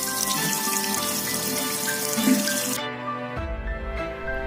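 Tap water runs steadily from a faucet over a black henna-style temporary tattoo of Lord Shiva on skin, a constant splashing hiss that shifts and thins near the end.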